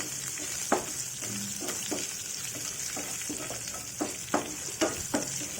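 Spices fry in a pan for a raw banana and toor dal curry, with a continuous sizzle broken by a series of sharp spoon taps and scrapes at irregular intervals.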